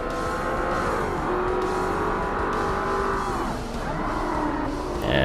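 Race cars roar through a TVR endurance race in the Forza Motorsport video game, loud sustained engine howls that rise and fall in pitch through gear changes, with a faint tire squeal near the end.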